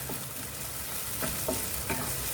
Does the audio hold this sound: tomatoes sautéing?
yes